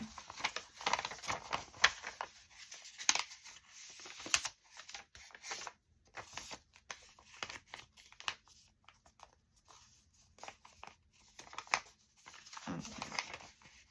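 Copy paper being trimmed by hand, soft intermittent snips and papery rustles in a quiet room, close and faint, with pauses between the cuts.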